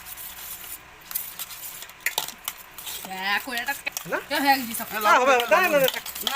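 Mango bharta being mixed with salt in a bowl, with scraping and clinking of utensil against the dish in uneven bursts, while people chatter over it.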